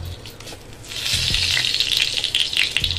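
Cardamom pods and a bay leaf dropped into hot ghee for sooji, giving a loud, close sizzling hiss that flares up after a second and crackles on steadily with small pops.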